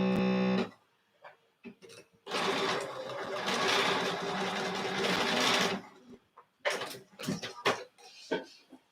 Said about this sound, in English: So I'm just going to do it like that and sew this seam